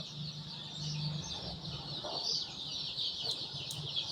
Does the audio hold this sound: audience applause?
no